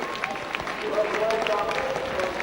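A rugby league crowd at a 1996 Challenge Cup fourth-round tie between Castleford and St Helens applauds the players, a broad wash of clapping beneath a commentator talking.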